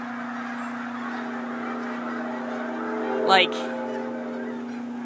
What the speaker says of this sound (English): That is all snowbirds with a couple Canadian geese moved in here.